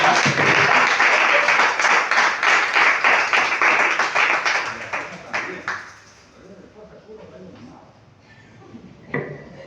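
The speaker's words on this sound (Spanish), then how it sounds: "Démosle un aplauso al Señor" A church congregation claps together in praise of the Lord, a loud rhythmic burst of applause lasting several seconds before fading out into quiet room sound and a few stray sounds.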